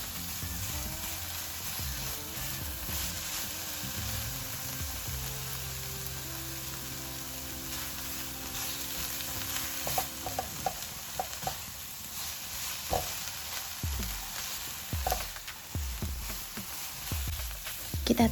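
Pineapple jam for nastar cooks with butter in a pan and is stirred continuously, producing a thick bubbling sizzle and repeated spatula scrapes and taps that grow more distinct toward the end.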